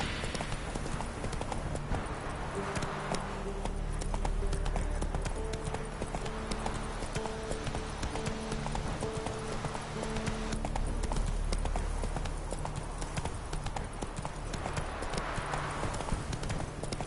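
A ridden horse in a PS4 video game trots along with steady, rhythmic clip-clopping hooves, moderately loud and continuous, while a voice talks briefly over it.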